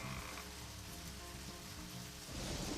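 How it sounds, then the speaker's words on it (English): Steady rain from a Deadly Premonition game scene pours as a dense, continuous wash, with low rumbling underneath and a slight swell in intensity near the end; no voices. "God, I hate the rain."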